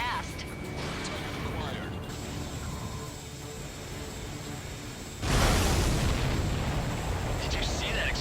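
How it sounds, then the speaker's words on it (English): Enemy aircraft exploding in Ace Combat 7 amid jet noise, a sudden loud burst about two-thirds through that leaves a sustained roar, with radio voices talking before it. "Did you see that explosion?"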